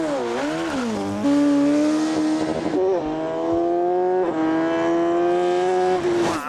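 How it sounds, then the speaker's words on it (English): Z-Cars space frame Mini sprint and hill climb car accelerates hard and close, a loud rising engine howl climbing through gear changes, dipping briefly between shifts and continuing at high revs. "here he is getting ready to drive one of our space frame cars, the Z-Cars Sprint and Hill Climber"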